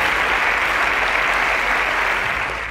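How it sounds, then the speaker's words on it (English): Studio audience on a quiz show claps in a steady, dense burst of applause, loud and close, fading slightly at the end with no talk over it. "A round of applause"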